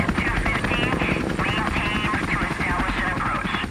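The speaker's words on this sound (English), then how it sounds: "the helicopters roared over the residential compound in southern Baghdad" Helicopters roar low over a residential compound in southern Baghdad before dawn, a loud, continuous rotor-and-engine wash that stays steady throughout.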